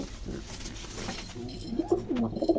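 A pair of Malbai pigeons coo softly at close range, low throaty calls rising toward the end over a background of rustling and faint noise.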